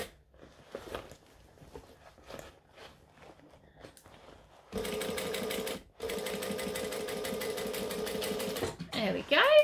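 Domestic sewing machine stitching fabric in a steady, fast whirring run that starts midway, pauses briefly, then resumes, preceded by soft handling rustles and fabric shuffling.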